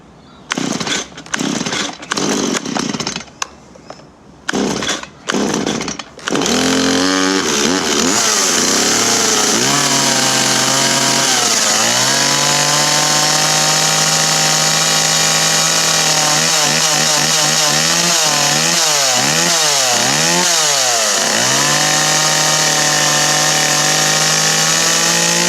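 A chainsaw fitted with a new spark plug is running: a few short bursts and revs give way to a loud, steady engine drone held close by, with rising and falling throttle swells and no talk.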